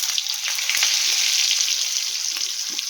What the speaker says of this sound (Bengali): আলুও কিন্তু খুব ফাটে জানেন তো, জল থাকলেই ফাটবে।